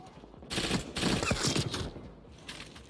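Call of Duty Warzone gunfire: several quick bursts of automatic shots at moderate volume, clustered over about a second and a half, then tapering off into a faint final burst.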